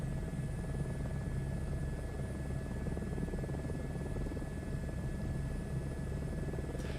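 A helicopter flies the Grand Canyon Green 1 tour route in Microsoft Flight Simulator 2024, its rotor and turbine making a loud, steady cockpit drone with a constant hum and no speech.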